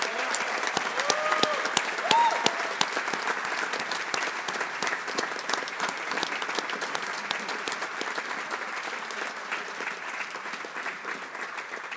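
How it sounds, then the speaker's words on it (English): A graduation ceremony audience claps steadily throughout, a dense, even round of applause that holds at a moderate level and only slightly thins toward the end, with a few faint voices beneath. "Can we please give everybody who helped to make tonight possible a round of applause?"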